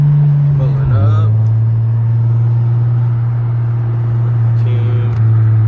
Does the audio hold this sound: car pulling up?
yes